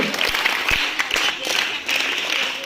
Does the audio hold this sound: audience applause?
yes